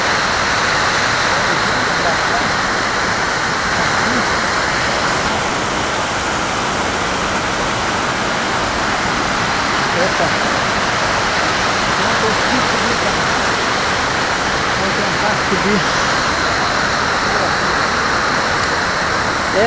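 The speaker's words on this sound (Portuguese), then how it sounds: "Lá tem mais cascata." A waterfall roars with steady, dense rushing water close by, and a voice talks briefly over it.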